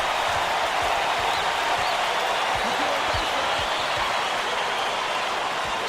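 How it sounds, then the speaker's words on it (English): A basketball arena crowd in the College Basketball 2K8 video game roars steadily after a steal, a loud continuous wall of cheering with faint ball bounces beneath it. "Listen to the crowd burn."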